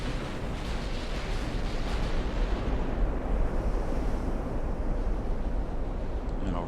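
Warship guns firing in the naval game Ultimate Admiral: Dreadnoughts, heard as a dense, continuous rumbling roar of distant heavy gunfire blended with sea and wind noise, with no talking.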